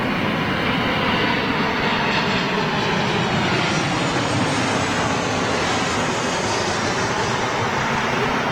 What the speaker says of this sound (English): if you're going to do a go-around, the way he did the go-around was fantastic with that sharp right bank